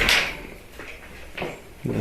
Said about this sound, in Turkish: Gel oğlum ben gireyim de kapıyı kapat.